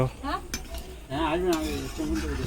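Biryani cooking in a pot over a wood fire, with a utensil scraping and clinking against the pot a few times while voices talk and chatter over it.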